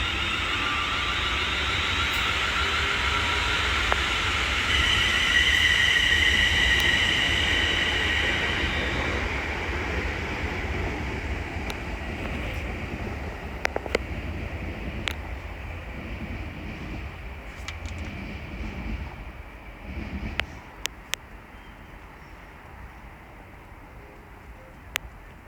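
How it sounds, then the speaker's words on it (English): A London Northwestern Railway service pulls out of Stafford station on the West Coast Main Line, a loud steady rumble that slowly fades, with squeals and faint clicks as it draws away. "Now departing is the 14:55 London Northwestern Railway service from Crewe to London Euston."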